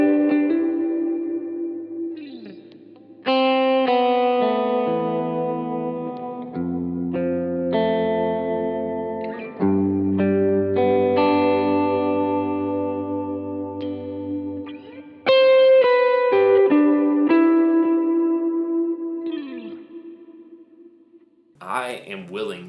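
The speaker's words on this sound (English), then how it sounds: "Brian, give us just one little a few note lead line, just so they can hear the verb, no delay." An electric guitar through a Line 6 Helix Orange Rockerverb amp model plays a slow lead line of sustained, singing notes soaked in reverb with no delay, each ringing out and decaying between phrases.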